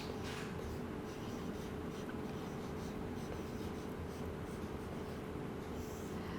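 Chalk or marker scratches steadily across a classroom board, a continuous close scraping texture with no speech.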